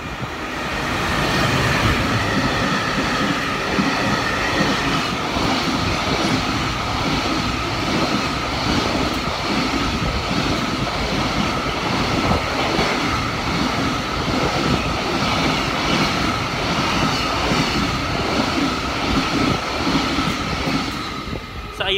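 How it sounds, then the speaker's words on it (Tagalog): A train at Nakashi station in Japan rumbles steadily and loudly for the whole stretch, with a continuous rolling hum and faint rail clatter and no talk over it. "naghintay kami ng train."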